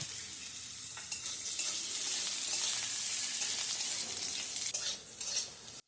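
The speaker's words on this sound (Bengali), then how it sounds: "কড়াই গরম হয়ে আসলে তাতে তেল দিয়ে প্রথমে আলুটাকে ভেজে নেব" Potatoes fry in hot oil in a kadai with a loud, steady sizzle, while stirring adds light scraping and clinks near the end.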